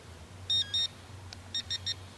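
Sharp high-pitched electronic beeps from a metal detector pinpointer: a pair, then three quick beeps in a row, clear against a quiet low hum.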